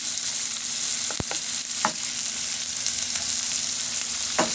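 Tomato and white onion sautéing in a pan: steady close sizzle with a few sharp clinks and scrapes from stirring, no voices.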